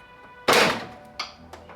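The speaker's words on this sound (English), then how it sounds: "then the part of the trunk light is good to come out" A BMW F80 M3 GTS trunk light housing pops loose with one sharp plastic thunk, followed by two lighter clicks as the part comes free, close and otherwise quiet.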